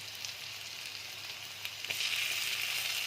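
Onions and tomatoes frying in a pan for an egg curry give a steady, close sizzle with soft crackles, growing slightly louder and brighter toward the end, with no talking.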